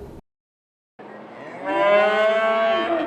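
A single cow moos loud and close, a long drawn-out low call that swells and holds for about two seconds after a brief silence, with nothing else heard.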